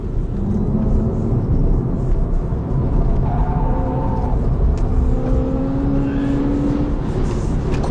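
An Alpine A290 GTS with 220 hp to the front wheels pushed hard through fast corners on a test drive: a loud, sustained engine drone with rising and falling tones as it accelerates and shifts, no talking.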